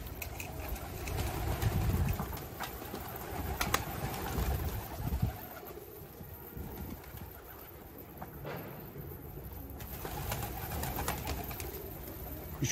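Pigeons coo softly at a rooftop coop, low murmuring calls recurring through the clip with faint distant engine noise behind them.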